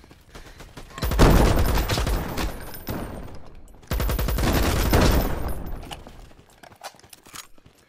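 Video game gunfire in two loud rapid bursts of automatic shots, each lasting a couple of seconds, with a crackling tail in between and after.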